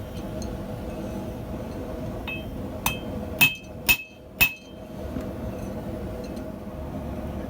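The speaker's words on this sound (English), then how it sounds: "This anvil has a dull ring that hurts my ears" A hammer strikes a cheap cast Acciaio anvil three times in close succession, each blow a sharp metallic clink with a short, dull ring, heard alone against a faint background hum.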